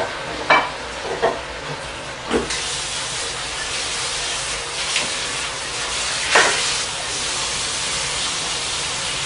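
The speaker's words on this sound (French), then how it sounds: "je remue un peu quand même. C'est un peu dur, tu vois, comme ça colle dessus" Sticky food being stirred in a cooking pan over a continuous loud sizzle and hiss, with a few scraping strokes of the utensil against the pan standing out near the start and again later.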